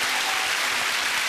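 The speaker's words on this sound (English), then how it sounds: "So applause for the Corrie." A studio audience claps steadily, a dense, even burst of applause filling the room at moderate level with no voices on top.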